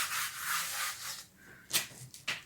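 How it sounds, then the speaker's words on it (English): Painted wood being sanded by hand, close scratchy rubbing strokes in an uneven back-and-forth rhythm, with a couple of sharper scrapes near the end and no voices. "Then I sand it off."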